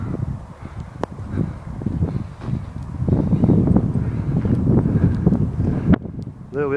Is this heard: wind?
yes